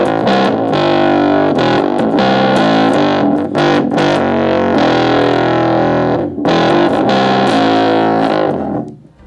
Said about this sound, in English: it just sounds like a cheap little practice amp